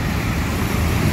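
Busy road traffic streams past in a brief, continuous wash of close, dense engine and tyre rumble with no pauses.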